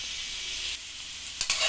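Ginger, onion and garlic sizzling in a hot pan, a steady hissing fry heard close up with a brief clatter of stirring near the end.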